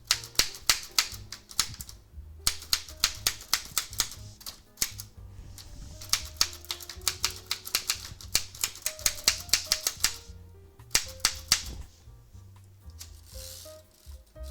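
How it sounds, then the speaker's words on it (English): A bedazzled 1960s Corsair typewriter, a light machine, is put through a typing test: bursts of sharp key strikes in quick runs, broken by short pauses and carriage sounds, close up with no talking. "the ultimate test of this machine is a type test"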